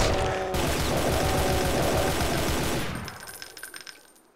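A chain gun in Brutal Doom fires one long rapid, dense burst of loud automatic shots for about three seconds, then stops, leaving clicking mechanical clatter and fading echoes.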